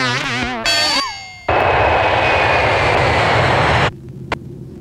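A loud, steady airplane engine roar fills most of the clip after a brief musical tone, holding broadband and even before cutting off abruptly near the end.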